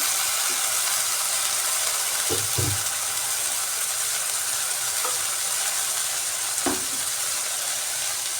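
Coriander leaf paste cooking with eggs and spices in a pan gives a steady, close sizzle and fry hiss throughout, with a few soft clinks and scrapes of stirring; no voices.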